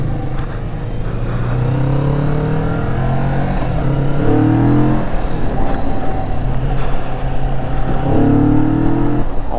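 A Kawasaki ZX-4RR sport bike accelerates hard on a road ride, its loud high-revving engine climbing through several gear pulls with brief drops between shifts, heard close up with rushing wind.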